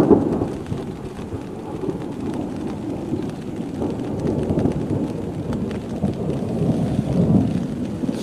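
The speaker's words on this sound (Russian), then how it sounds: "Слышите, да? Громыхает." Low, rolling thunder rumbles continuously alongside steady rainfall, loud and enveloping, with no voices.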